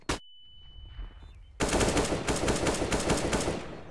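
AK rifle fire in Counter-Strike: Global Offensive: a single sharp shot, a brief pause, then a loud sustained automatic burst of rapid cracks lasting about two seconds.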